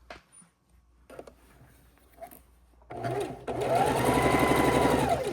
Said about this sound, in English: bring you over to the sewing machine and sew these together